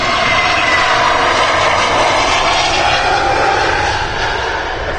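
An Airbus A321neo jet airliner at Amsterdam Schiphol Airport gives off a steady, loud, broadband engine roar that holds evenly throughout, with no voices.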